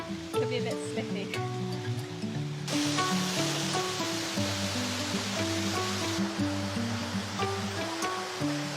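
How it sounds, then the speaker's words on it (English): A waterfall on a wet, slippery mountain path in China gives a steady broadband rushing roar that swells suddenly a few seconds in and stays loud, with sustained tonal sounds layered over it. "We're now coming up to this waterfall."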